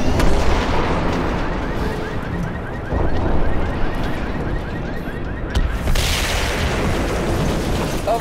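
A missile strikes its target in the video game Crysis 2, a loud, sustained explosive rumble with a brighter blast swelling near the end, layered over ongoing battle noise.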